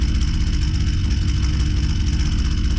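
A Husqvarna 122C two-stroke trimmer engine runs at raised revs after its carburetor has been leaned out, a loud, close, continuous buzzing drone with a slight rhythmic pulse and no talking.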